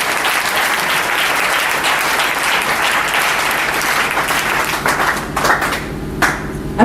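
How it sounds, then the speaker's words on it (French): A church congregation breaks into loud, sustained applause and clapping that fills the room, thinning into scattered claps and a few voices near the end. "Alors acclamons le Seigneur Jésus-Christ de Nazareth"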